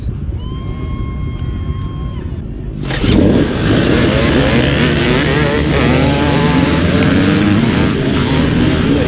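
A KTM 300 two-stroke enduro motorcycle at an enduro race, ridden wide open after a quieter idle: a loud, close, sustained high-revving buzz that surges and holds, with no talk over it.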